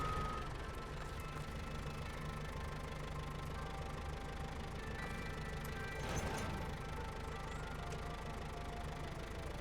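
In the video game SnowRunner, a truck reverses onto a trailer in the Drowned Lands logging area, its engine droning and knocking steadily at a mid pitch throughout, with no talk.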